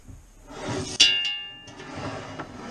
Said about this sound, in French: On entend bien le son du métal.